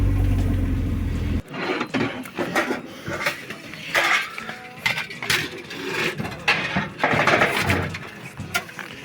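Branches and overgrown weeds taller than the vehicle scrape and rustle along a truck's fabric tarp: a low engine rumble first, then irregular bursts of scratching, brushing and clattering that come close and loud.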